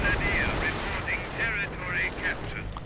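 Gunfire from a half-track, a StuG 42 assault gun and infantry in a WWII real-time strategy game, with rapid machine-gun bursts and distant blasts running steadily under in-game chatter.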